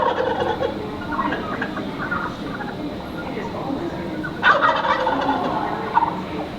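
Wild Rio Grande turkeys gobble in the Wichita Mountains of Oklahoma, their rattling calls coming in bursts over a steady outdoor hiss, with a louder cluster near the end.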